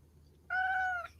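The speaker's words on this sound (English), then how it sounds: "You're just meowing?" A cat gives a single clear meow, about half a second long, near and fairly quiet against a still indoor background.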